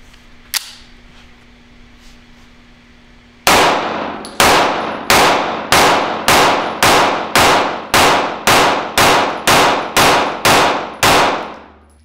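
A 1911 pistol fires hollow point rounds in a fast, evenly spaced string of about fourteen sharp, loud shots until the magazine runs empty. A brief metallic click comes before the string starts.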